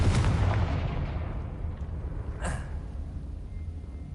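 A Confringo blasting spell detonates in Hogwarts Legacy, a single broad boom at the start that rolls off into a long rumbling decay, with a brief crackle later in the tail.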